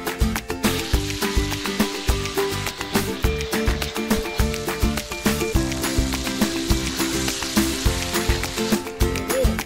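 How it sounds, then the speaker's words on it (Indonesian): Ground spice paste sizzles loudly in a pan with added water while a utensil stirs it in quick, rhythmic scrapes, close and constant, with no talking. "Kalau bumbu halusnya sudah siap, saatnya menumis nih."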